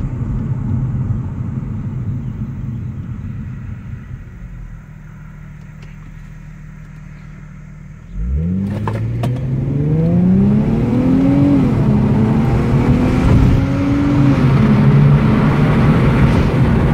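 Stock 2006 Infiniti G35 coupe with an automatic transmission idles with a low rumble, then launches hard in a 0-60 run. The engine note climbs loud and close through rising revs and gear changes, with no talking.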